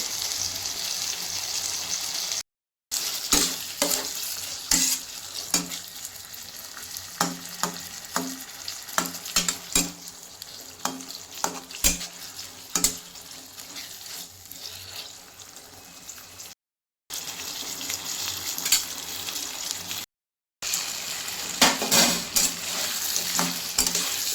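Chili chicken frying and being stirred in a pan, repeated spatula scrapes and clatters over a steady sizzle, with a few brief silent gaps between bursts of stirring.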